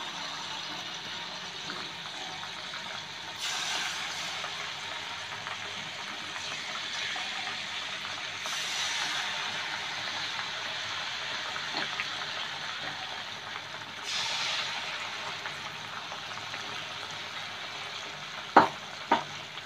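Malpua batter sizzles steadily in hot oil in a flat pan over a medium flame, with a continuous close hiss and a few brief swells. Two sharp clinks come near the end.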